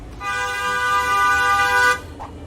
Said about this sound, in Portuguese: uma buzina de carro tem cerca de 90 decibéis